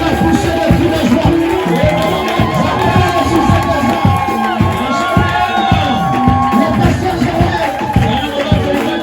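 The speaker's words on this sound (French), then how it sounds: "Est-ce qu'on va pousser les cris de joie?" A church congregation cheering and shouting for joy, a loud, dense crowd of whoops and cries that carries on without a break.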